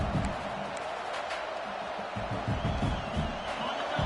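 A stadium crowd in a PS5 football video game keeps up a loud, steady roar, with a few thumps of bouncing or impact underneath.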